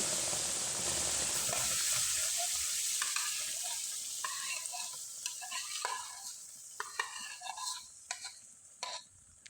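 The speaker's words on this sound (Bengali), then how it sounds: "এবার ডালের পেস্টটা আমি কড়াইয়ে দিয়ে দিলাম।" Lentil paste sizzles in a hot wok while a spoon stirs and scrapes through it, a steady frying hiss broken by irregular clinks and scraping strokes, close up.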